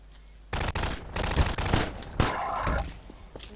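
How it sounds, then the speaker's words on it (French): Rapid bursts of gunfire from weapons in Garry's Mod, loud and dense, starting abruptly after a quiet moment and continuing in clustered volleys with a heavier shot midway. "Je tire dans la tête pour que vous voyez combien de fois dans la tête il meurt."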